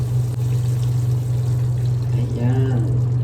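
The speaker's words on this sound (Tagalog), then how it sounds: "Lagyan na natin siya ng tubig." Water is poured into pork adobo simmering in coconut milk, a soft, continuous pouring and bubbling close by over a steady low cooking hum, with a brief gurgle near the end.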